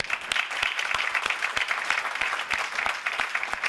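A crowd at a graduation award ceremony applauds students, a dense, even wash of many hands clapping at moderate distance, continuous for several seconds without voices.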